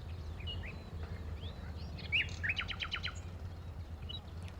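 Birds chirping around a vineyard where ripening grapes draw them in, a few sharp tweets and short trilled calls near the middle, heard over a constant low outdoor rumble.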